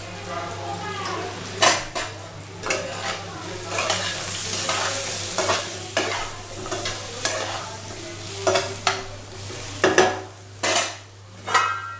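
Metal utensils scrape and clatter against a pan in repeated strokes, over a low steady hiss of eggplant frying close by.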